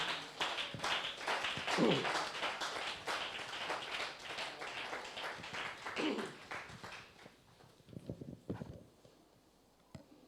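A church congregation clapping during a French-language worship service, a moderate burst of hand claps and applause that gradually thins out toward the end.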